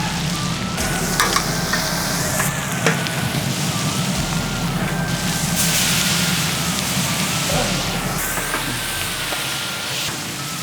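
Radish and potatoes are sautéed together in a pan, giving a steady, loud, close sizzle and frying crackle that runs throughout, with occasional stirring scrapes.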